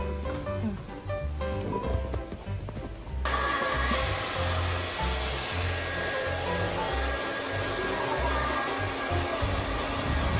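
A steady, loud blower roar switches on partway through and runs continuously, with indistinct voices and background noise underneath.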